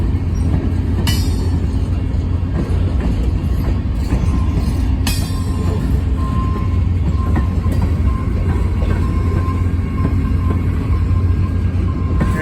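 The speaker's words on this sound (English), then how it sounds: "All you can hear is them rolling over the joints." Freight trash cars roll past close by on CSX track at a derailment cleanup in Wyoming, wheels thumping over rail joints amid a loud continuous rumble, with occasional metallic squeals and clanks.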